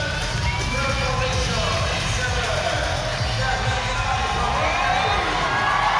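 A crowd cheers on an athlete during an elite CrossFit event at the French Throwdown, a steady roar of voices and shouts filling the space throughout, with some chatter mixed in.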